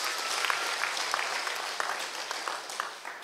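Church congregation giving a round of applause, many hands clapping in a steady crackling wash at moderate level that thins slightly toward the end.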